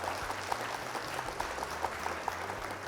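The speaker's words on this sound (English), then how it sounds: "Round of applause for you." Steady applause from a small group, a continuous patter of clapping with no voices.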